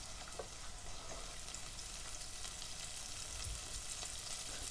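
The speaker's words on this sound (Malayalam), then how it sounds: "ഈ സവാളയൊന്ന് വഴണ്ടു വരട്ടെ" Chopped onions sauté with a pinch of salt in a pan for butternut squash soup, giving a steady, even sizzle with faint scattered crackles throughout, moderately quiet and close, with no voices.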